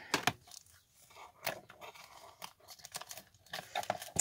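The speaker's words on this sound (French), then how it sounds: "Alors, une paire de ciseaux." Scissors snip and crunch through tape on a package, giving irregular sharp cuts and crinkling close by with short pauses between.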